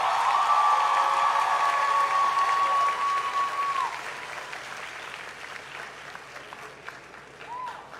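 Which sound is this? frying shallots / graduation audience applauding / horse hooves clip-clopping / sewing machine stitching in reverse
graduation audience applauding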